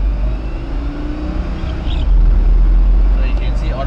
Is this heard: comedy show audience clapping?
no